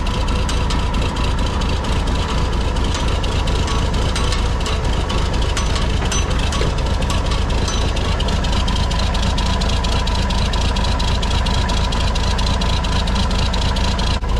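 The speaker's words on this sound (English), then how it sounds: "Just let it idle and warm up for a couple minutes." A farm machine's engine idles steadily while warming up on a cold start, a loud continuous low rumble with an even mechanical chatter, close by and alone.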